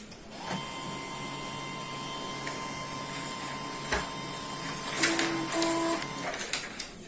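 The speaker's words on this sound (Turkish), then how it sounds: "Yazıcımızı başlatıyoruz şimdi." A Canon MF237 laser printer powers up after toner replacement, giving a steady mechanical whir with sustained tones, then a few brief beeps and clicking motor sounds near the end, close and moderately loud.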